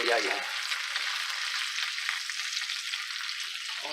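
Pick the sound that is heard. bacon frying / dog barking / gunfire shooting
bacon frying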